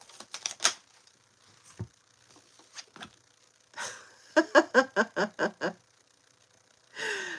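Tarot cards are shuffled and handled on a table: a quick series of crisp, closely spaced riffling snaps mid-clip, with scattered card taps and soft rustles before and after, close and fairly loud.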